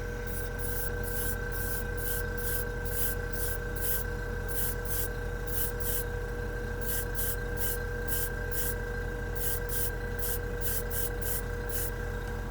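An airbrush lays a final black coat of Pro Acryl acrylic hobby paint, giving a steady, loud, close hiss of air and spray throughout, with quick pulsing bursts as the trigger flutters.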